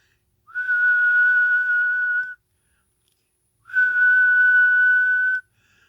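Two long steady whistles sent into the microphone of a Midland 13-882B CB radio, each about two seconds at a single clear pitch, separated by a short silence, loud and close with no talk.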